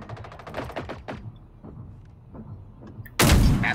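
Gunfire aimed at a tank in Generation Zero: a rapid train of sharp shots fades into scattered pops, then a sudden loud, sustained blast of fire erupts close by at the end.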